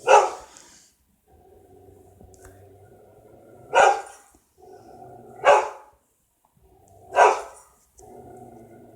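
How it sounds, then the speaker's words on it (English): A dog barks in four loud, separate bursts near the microphone, with quiet gaps and a low steady hum between them. "sorry, that's my dog again."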